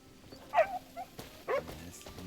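A dog gives two short yipping barks with soft whimpering sounds between them, close and moderately loud, amid quiet background game ambience in Crimson Desert.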